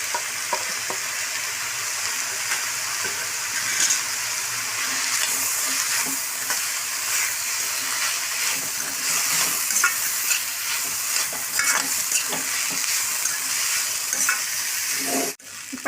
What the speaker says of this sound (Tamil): இப்போ நல்லா வதங்கி வருதுங்க.